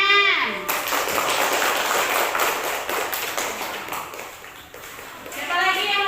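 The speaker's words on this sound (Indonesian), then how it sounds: "Kasih tepuk tangan." Children in a primary school classroom burst into a sustained round of applause that lasts several seconds, with a voice heard just before and after.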